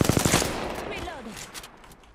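Rapid bursts of automatic gunfire in the Apex Legends video game, loudest at the start and then fading, with a voice partly over it.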